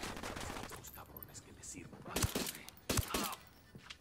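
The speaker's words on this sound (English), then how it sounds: "I'm opening fire on these shitheads." Gunfire in Ghost Recon Wildlands comes in rapid bursts and scattered sharp shots, with two louder close cracks standing out amid the rattling exchange.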